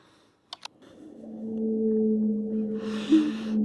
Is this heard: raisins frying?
no